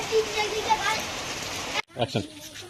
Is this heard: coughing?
no